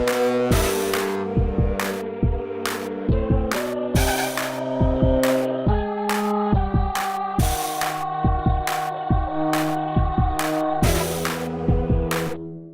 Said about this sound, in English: Maybe the reason it sounds so muffled is because it needs more distortion.